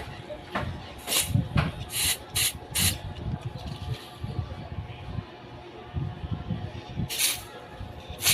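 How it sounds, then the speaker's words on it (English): Short hissing bursts of aerosol spray onto a camping stove's fuel jet, several quick blasts in a row with a longer one near the end, close up over background shuffling. "you can also spray it on the main fuel jet."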